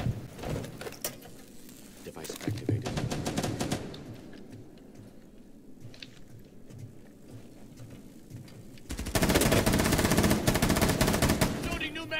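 Enemy gunfire in a video game: rapid automatic bursts crackle at the start and again loudly near the end, with a player talking in between.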